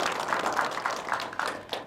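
A studio audience applauds at a televised dialogue forum with the Banten provincial parliament (DPRD), producing a steady, dense patter of many hands clapping for about two seconds with no speech over it.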